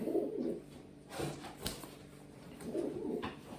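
Young pigeons coo softly in two short, throaty bursts near the start and end, close but quiet, with a few faint rustles between and no talk.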